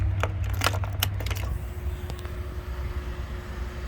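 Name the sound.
set of keys jangling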